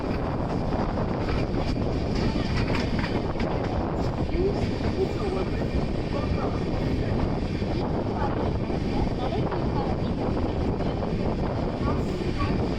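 Inside the AC Double Decker Express running from MGR Chennai Central toward KSR Bengaluru near Ambur, a constant loud rumble and rushing wind noise hold steady throughout.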